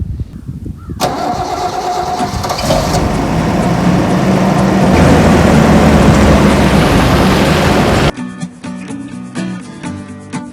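A 1979 Toyota FJ40 Land Cruiser engine cranks and roars to life, then runs loud and close with a steady, rough mid-range drone for several seconds before the sound cuts to a different, quieter engine tone near the end.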